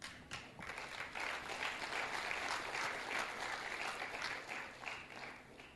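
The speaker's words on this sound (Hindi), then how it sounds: "इस बात पे जो तालियां बजाई तो दिल खुश हो गया मेरा" An audience applauds in a steady, even wash of clapping that holds for several seconds, quiet and a little distant, with no talk over it.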